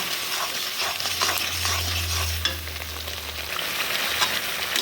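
Chili powder is stirred into spices frying in oil, giving a steady close sizzle with scraping stirs, while a low hum runs beneath for a few seconds.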